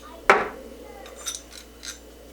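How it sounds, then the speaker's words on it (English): A new bearing being pressed into a KTM 300 PDS rear shock's lower heim joint using nuts, washers and sockets, one sharp metallic clink followed by a couple of softer scrapes and ticks, close and quiet. "Now I'm gonna use the same stuff to press new bearing in."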